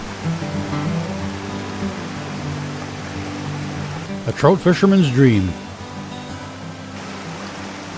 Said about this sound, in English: Never-ending drops and small waterfalls.